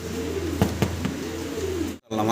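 A pair of Holy Copper fancy pigeons coo in a few soft, low repeated calls close by, over a steady background hum that cuts out briefly near the end.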